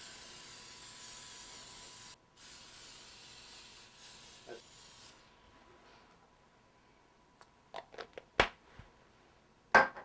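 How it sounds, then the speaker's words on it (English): A steady pressurized hiss of an olive oil cooking spray on chicken for about two seconds, pausing briefly, then continuing more faintly, followed by a few sharp clicks and knocks. "I use a vegetable spray, and I happen to use olive oil, and I just spray the tops of my chicken"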